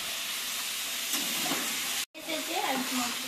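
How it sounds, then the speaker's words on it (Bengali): Chicken being fried with masala in a pan, a steady close sizzle with stirring scrapes and a brief clink of the utensil, while someone talks lightly over it. "মশলা দিয়ে কষিয়ে নিচ্ছে"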